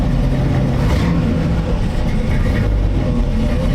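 A 1932 Ford Deuce hot rod's 350 V8, still cold, revs loudly and steadily up close, a deep continuous engine roar with no talk over it.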